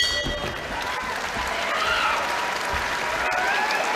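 A boxing crowd applauding loudly and steadily during a Dillian Whyte fight, a dense wash of clapping and cheers that holds close and unbroken throughout.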